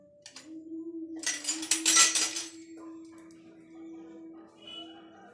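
Clinking of a spoon against a glass while jaggery is stirred into coconut milk, a burst of close, bright chinks and scraping lasting about a second and a half, then quieter faint taps under a steady low hum.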